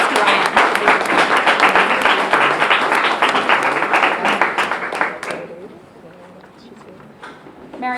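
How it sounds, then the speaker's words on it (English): Audience at an International Day of People with Disabilities award ceremony breaks into dense, loud applause that holds steady for about five seconds, then drops to a quieter room with a few stray claps. "Everybody please give a round of applause to Ryan."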